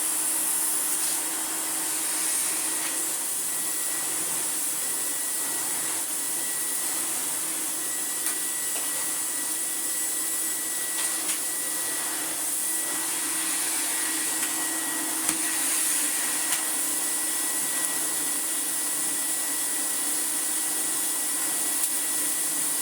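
Electrolux Dolphin 1000 Z2222 twin-speed vacuum cleaner, refurbished, running in boost mode: a loud, steady high-pitched whine and airflow roar, close and continuous throughout with no talk.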